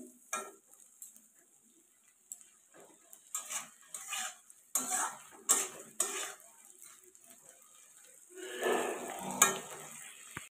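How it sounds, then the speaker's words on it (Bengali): Shrimp fry lightly in oil in a pan, with a soft sizzle under repeated clinks and scrapes of a utensil against the pan and a louder stirring rustle near the end. "চিংড়ি মাছটা একটু হালকা করে ভেজে নেবো"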